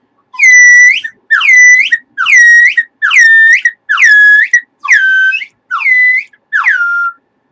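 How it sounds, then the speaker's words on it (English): Slide whistle sound effect from a Sideshow Bob cartoon scene, heard loud and alone as eight quick up-and-down whistle slides in an even rhythm. "putting that Sideshow Bob with that slide whistle"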